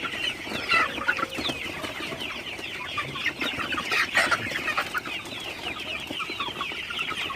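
Sonali super hybrid chickens in a farm shed at night keep up dense, overlapping clucks and chatter, close and continuous with no pauses.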